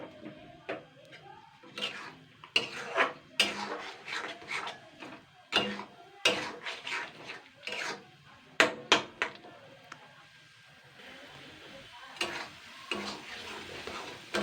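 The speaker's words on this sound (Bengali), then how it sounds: "এরপরে আমি এটাকে আমি চার পাঁচ মিনিট ধরে ভালো করে কষিয়ে নেবো সয়াবিনটাকে" Soybean chunks are sautéed in a pan with a soft background sizzle, broken by frequent sharp clinks and scrapes of a spatula against the pan in irregular bursts.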